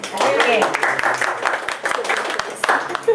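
A small group in a Bible class claps for a participant named Edward, a few scattered, uneven claps mixed with people talking close by.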